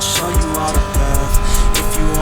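A Lamborghini Gallardo races in Need for Speed Most Wanted, its engine droning steadily at high revs, with gear-shift dips and a few quick accelerating sweeps in a dense, continuous roar.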